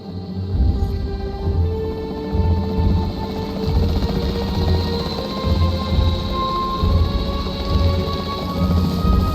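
A capture team helicopter in the video game Jurassic World drones steadily with a loud, continuous rotor rumble and a constant engine hum, with no talk over it.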